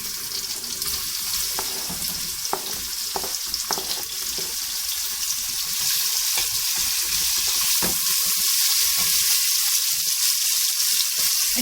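Onions frying in a pan of oil after cumin seeds, a continuous close sizzle with occasional stirring clicks that grows denser and louder toward the end, no talking.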